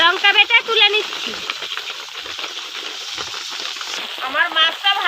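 A fish head fries in oil with a bright, crackling sizzle running continuously, nearby and fairly loud, while someone talks over it at the start and end.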